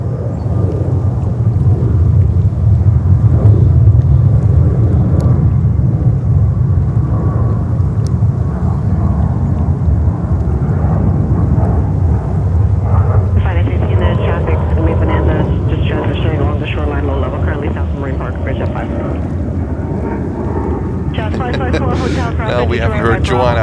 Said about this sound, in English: green stripes livery of Condor coming in from Frankfurt, Germany